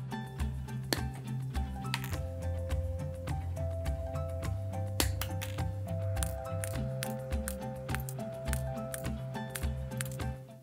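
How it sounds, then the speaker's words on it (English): Spikes for a homemade replica of Queen Victoria's tiara being trimmed to size, with repeated sharp close cutting snips and clicks over a soft background music bed, with no talking. "I could measure them against the tiara and cut the spikes to the correct size"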